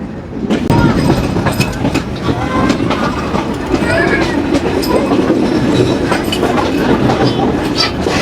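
Rupsha Express passenger train pulling out of Pakshi railway station platform near the Hardinge Bridge, a steady loud rumble with rhythmic clickety-clack of wheels and occasional squeals, heard close from onboard with a voice talking over it.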